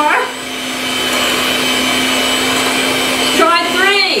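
A Cusinaid 5-speed hand mixer runs at speed 2, a loud steady motor whine and hum close by, with a voice briefly speaking near the end.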